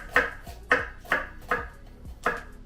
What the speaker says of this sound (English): then you make a series of really close vertical slices